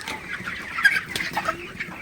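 Broiler chickens on a farm at night, clucking close by in a short burst of uneven calls, a few sharper notes standing out over a busy background.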